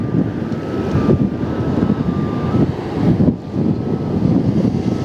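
Boeing 787 Dreamliner jet at LAX heard as a steady, loud engine roar with broadband rumble and wind buffeting the microphone, a faint tonal whine running through the first half, no talking.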